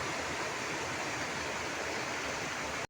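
A river flows steadily past the riverbank at a village, a broad even rushing wash that stays constant throughout with no voices.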